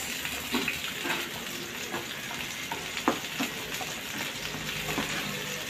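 Chopped onion sizzles in hot oil in a pan for adobong kangkong. The frying is steady and crackling, with faint scattered pops and light clinks, and no voices.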